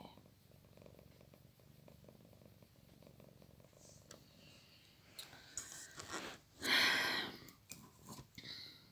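A tired cat curled on a sofa purrs softly and steadily at close range, a low continuous rumble with no talking, broken near the end by a few louder rustles and brief bursts of movement.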